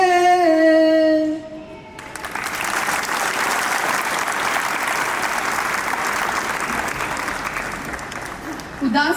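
Audience applause at an Independence Day (15 August) event at Chandigarh International Airport, rising after a sung line and holding as a steady, loud, dense clapping wash for several seconds before tapering off.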